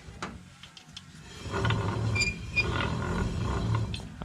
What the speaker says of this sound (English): I can hear some grinding right in here towards the end